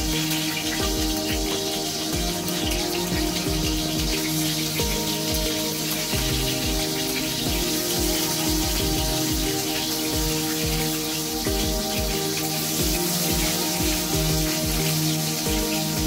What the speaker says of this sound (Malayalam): വെളിച്ചെണ്ണ ഒഴിച്ചു എണ്ണ ചൂടായപ്പോൾ നമ്മൾ ഈ ചെമ്മീനെ അതിലേക്ക് ഇട്ട് കൊടുത്തു